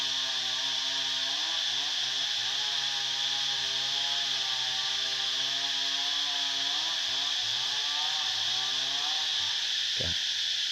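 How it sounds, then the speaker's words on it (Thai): Chainsaw cutting trees in a nearby forest, a steady high whine running throughout with shifting tonal pitch, moderately distant and unbroken, with no talk over it. "ก็มีเสียงเพิ่นตัดไม้แถวป่าในรบกวนจักหน่อย เสียงจักสตินเพิ่น"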